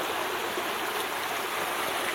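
Creek water flows steadily and close by, a continuous broadband rush and babble with no pauses, heard alone without voices.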